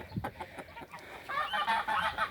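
Rooster calls ring out in a rough, honking series, moderately close, with a busier stretch of squawking toward the end; no speech.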